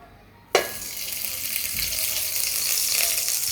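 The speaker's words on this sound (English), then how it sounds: "So far I'll be adding this aku stock into the pot." Aku stock is poured into a hot pot of egusi soup, setting off a sudden loud sizzle that keeps hissing steadily and up close.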